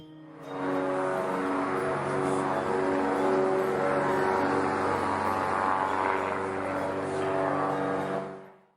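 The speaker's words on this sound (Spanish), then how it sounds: "favor de abrocharse el cinturón de seguridad porque estamos a punto de despegar" An airplane takes off as a sound effect: a loud, rising engine roar with strong tonal droning that swells in after a moment, holds steadily for several seconds, then cuts away.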